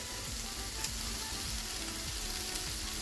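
Olive oil sizzles steadily in a non-stick pan, a dense continuous crackle that stays close and even for the whole stretch with no voices over it.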